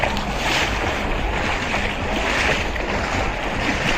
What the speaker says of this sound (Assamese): চাওক গাইজ ঢৌবিলাক চাওক